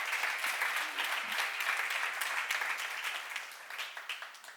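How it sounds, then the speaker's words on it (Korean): Audience at a church seminar claps steadily in a dense, continuous round of applause, with no talking over it, easing slightly toward the end. "믿는 사람만 박수하세요"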